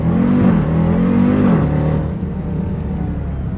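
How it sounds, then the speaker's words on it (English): A 700 bhp Jeep Grand Cherokee Trackhawk with a 6.2-litre V8 accelerates hard, its engine note climbing in pitch, dropping at a gear change, then easing into a steadier, quieter drone. "To get acceleration like that from a car that weighs 2 tons is completely ridiculous"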